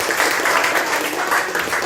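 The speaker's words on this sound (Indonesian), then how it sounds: "Ya, tepuk tangan untuk Arif." Classmates applaud a student in a classroom, a brisk, dense patter of many hands clapping nearby for about two seconds.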